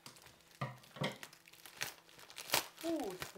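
Competition scissors snip and crinkle through the plastic packaging of a diamond art kit near the canvas, a series of close, irregular cuts and rustles with a voice speaking faintly at times.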